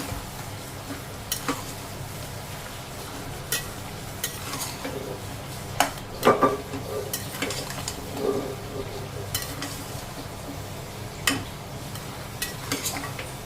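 Mutton curry with chopped tomato and green chilies is stirred in a pan, producing soft scraping strokes and occasional clinks of the spoon over a low, steady background hum.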